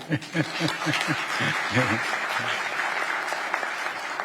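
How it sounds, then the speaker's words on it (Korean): Steady audience applause fills a Korean international conference hall at a geological heritage symposium, at first under a speaking voice, then a sustained, even wash of many hands clapping. "먼저 발표하면 박수 한번 쳐주십시오."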